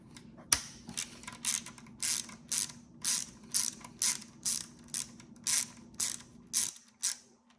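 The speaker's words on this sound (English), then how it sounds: "So first, I'll remove the cover, and this is just a H4 screw up here." Cover screw of a TriRig Alpha One brake on a Cervelo P-series bike being turned out with a hex tool, giving a close, steady series of about a dozen ratcheting clicks at an even rhythm, alone in a quiet room.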